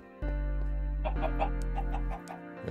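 Minecraft chickens cluck in short bursts from a video game, layered over a steady in-game background tone, with no talking.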